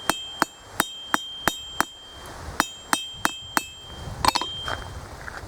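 A hammer strikes a forged metal bracelet in about a dozen evenly spaced, ringing taps, close and moderately loud, with a bright metallic ring after each blow and a few lighter clinks at the end.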